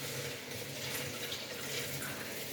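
A kitchen tap runs steadily in a home, giving a faint, even hiss and splash of flowing water that continues unbroken throughout.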